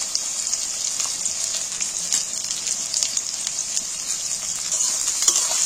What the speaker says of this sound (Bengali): কড়ায় আমি তেল ঢেলে দিচ্ছি। কাটা পেঁয়াজগুলো আমি তেলের মধ্যে তুলে দিচ্ছি।